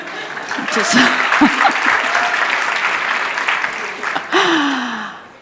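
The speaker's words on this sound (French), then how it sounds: "Oh, mais vous pouvez applaudir" Steady applause from a French-speaking contest audience fills the whole stretch, with a voice briefly rising over it near the end before the clapping fades.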